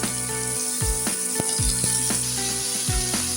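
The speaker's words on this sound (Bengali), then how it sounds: "এর মধ্যে আমি ধুয়ে রাখা আলু বেগুনটা দিয়ে দেবো" Washed potato and eggplant pieces hit hot oil with a black cumin tempering and sizzle steadily and loudly, with scattered clicks and scrapes of cooking utensils throughout.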